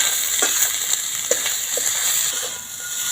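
Mashed boiled potato and spices stir-fried in a hot pan for a pointed-gourd chop filling: a steady, close oily sizzle with soft, irregular scraping taps from the stirring throughout.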